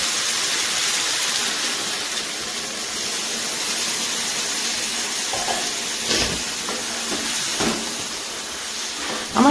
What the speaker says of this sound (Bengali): এখন আমি এর মধ্যে আলু সিদ্ধ করে রাখা জলটা দিয়ে দেবো।